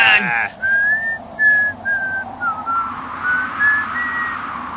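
A high, gliding whistle from a Dragon Ball cartoon fight against Lord Slug, sounding as a series of sustained tones that dip and then rise over a low background rumble, with a short burst of noise at the start.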